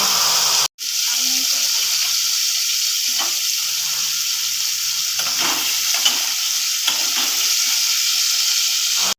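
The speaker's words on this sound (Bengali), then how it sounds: "ভাজা তেলে আমি আলুটাকে ভেজে নেব" Loud, constant hiss of potato frying in hot oil, with a few faint clinks and scrapes underneath; one brief cut near the start.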